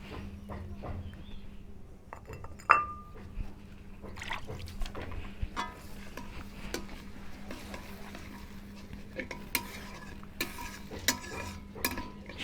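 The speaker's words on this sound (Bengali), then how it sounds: "সুন্দর করে মিক্স করে নিচ্ছি।" Taro root curry with water, ginger paste and dried chillies is mixed in a pot. Quiet, scattered scrapes and wet stirring knocks are spread over a low background hum, with one brief sharp clink early on and no talk.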